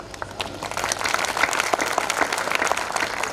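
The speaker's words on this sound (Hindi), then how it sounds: "मुझे इतनी तालियों की वास्तव में उम्मीद नहीं थी।" An audience at a Hindi poetry gathering during a Dussehra fair in Banswara claps in sustained, dense applause, steady and fairly loud throughout.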